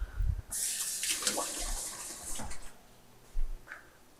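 A kitchen tap runs briefly into a small container while baking cinnamon rolls, a short bright hiss of flowing water lasting about two seconds, followed by faint clinks and handling sounds.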